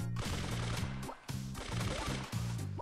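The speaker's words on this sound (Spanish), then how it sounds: "Este dispara misilillos" Rapid bursts of small missile fire from a brawler in the mobile game Brawl Stars, with a rhythmic pulsing chatter of shots, a brief pause near the middle, then continued volleys over game music.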